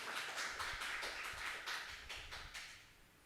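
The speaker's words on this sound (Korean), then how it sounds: "뜨겁게 우리 하나님께 감사의 박수를 치시기 바랍니다." A church congregation at a Sunday worship service claps in thanks to God, a steady patter of many hands that stays fairly even and fades slightly toward the end, with no talking over it.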